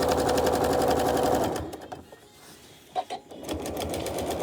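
A sewing machine stitches a quilt in a fast steady whir, stops briefly with a couple of clunks and handling noises, then starts running again.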